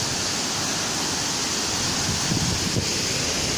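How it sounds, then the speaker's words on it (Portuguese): The Salto do Corumbá waterfall roars in a steady, broadband rush of falling water, loud and continuous with no gaps. "Bem aqui tem uma cachoeira cabulosa"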